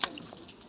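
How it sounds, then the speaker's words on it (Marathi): Water drips from the rock ceiling of the Pandav Leni caves near Nashik, giving a couple of faint, quick drips against quiet, echoing cave air with no talking. "डोक्यावर पाणी पडतंय"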